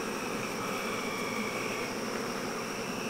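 Honeybees buzz around an opened hive during an inspection, a few getting agitated. A faint, continuous insect drone holds steady throughout.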